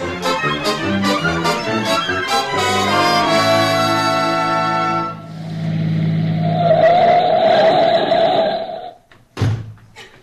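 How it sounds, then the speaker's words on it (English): A radio sound effect from a 1949–1953 comedy show: a short musical sting gives way to a car engine that revs and pulls away, loud and close, then cuts off abruptly. "We'll jump in the car and be there in a few minutes."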